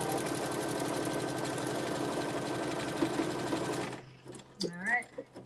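A sewing machine stitches a buttonhole in a steady, fast mechanical whir that runs continuously for about four seconds and then stops, followed by a brief voice.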